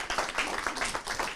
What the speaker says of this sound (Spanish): Con un aplauso, por supuesto.